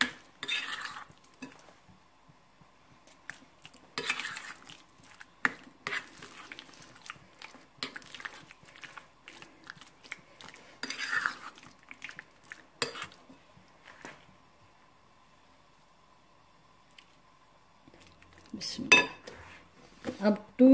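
A spoon mixes cornflour into raw chicken pieces for chicken tikka malai boti, giving sparse, intermittent clinks and scrapes against a bowl with quiet gaps between strokes, ending in a brief louder burst.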